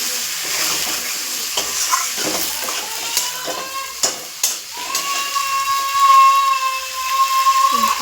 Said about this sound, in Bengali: এবার আমি ছন্নির সাহায্যে ভালো করে মাংসটাকে মশলার সাথে ভালো করে মিশিয়ে নিতে হবে